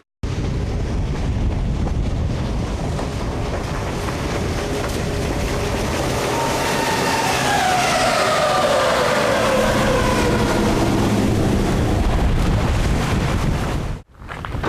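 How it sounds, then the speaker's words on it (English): Strong wind at a fishing spot roars steadily across the microphone in a loud, unbroken buffeting rush, with a faint rising and falling engine-like tone in the middle, before cutting off abruptly near the end. "we have to speak up loud because it's very windy at the moment"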